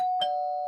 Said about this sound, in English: They started going to every house and rang their doorbells